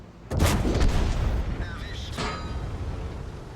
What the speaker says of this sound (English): Another ricochet off of the PD4.